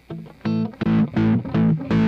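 Electric guitar played through a portable practice amplifier with its distortion channel engaged, giving several loud, saturated chords in a choppy rhythm, each struck and left ringing briefly before the next.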